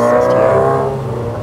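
A Subaru WRX STI at a supercar show outside a hotel, its engine giving a loud, close, steady rumbling rev that tapers off slightly.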